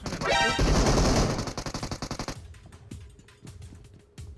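A rapid automatic volley rips through a PUBG Mobile fight, loud and close, then gives way to a quieter string of spaced single shots with mechanical clicks.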